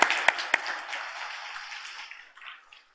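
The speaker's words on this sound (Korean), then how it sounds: "다시 한번 우리 박수로 격려해 주시면 좋겠습니다" Clapping from a church congregation during a Sunday worship service, opening with a few sharp claps that swell into a brief burst of applause, then gradually fading away to near silence.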